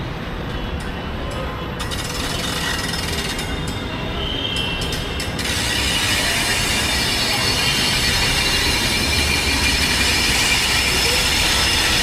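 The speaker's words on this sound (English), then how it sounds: "Hey, this is the same WAP7 I saw in the morning." A WAP7 electric locomotive hauling the Jaipur Chennai Superfast passes close by at an Indian railway location, a loud, sustained rumble of wheels and coaches that builds and then holds steady, with hiss and rattle throughout.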